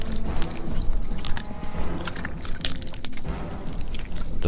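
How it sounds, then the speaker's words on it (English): Gory sound effect of flesh being ripped, set in a spooky Halloween horror story on a foggy night; wet, tearing, chewing-like squelches run continuously and fairly loud, with no voices. "Then the sound of ripping flesh."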